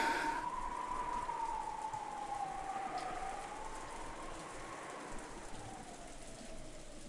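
Wind and rain in a stormy outdoor scene make a steady, loud broadband roar with a wavering whistling gust tone running through it, continuous and without speech.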